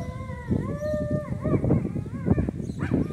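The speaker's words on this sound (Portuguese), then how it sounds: "É muito cachorro." Street dogs in a neighbourhood of Itapipoca, Ceará, howling and whining together in overlapping, wavering calls, fairly close and continuous, with short yelps and barks mixed in.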